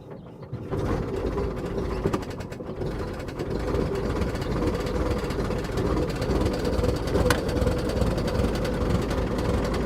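A 1915 Dodge Brothers Touring Car engine catches and settles into a steady, loud mechanical chug. A rough low rumble with rapid rattling continues without a break for about ten seconds.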